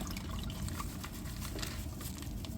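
Water poured from a leaking plastic bag into a Red Sea 250 G2 reef aquarium, a steady close splashing trickle that runs continuously without talk.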